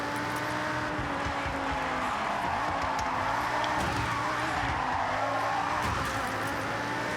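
A Ford GT drifting in the racing game Forza Horizon 6, its tires squealing and skidding under a steady, loud engine roar that holds without a break.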